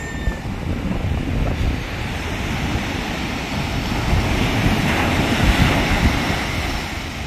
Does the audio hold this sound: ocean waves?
yes